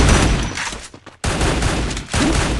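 Rapid bursts of automatic gunfire from a shooting video game, loud and dense, broken by a brief near-silent gap before the firing resumes, with no talk over it.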